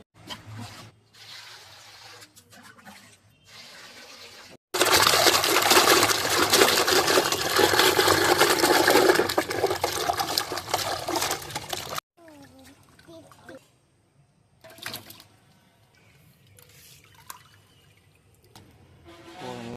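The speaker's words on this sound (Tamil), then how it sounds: "இஞ்சிலாம் நல்லா நீட்டாக கழுவி எடுத்துட்டு" Tap water pours loudly for several seconds in a home kitchen while fresh ginger is washed, framed by quieter handling sounds and someone talking before and after.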